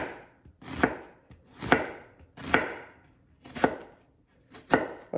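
A knife slicing through an onion on a cutting board, five evenly spaced crisp chops about a second apart, close and clear with quiet pauses between.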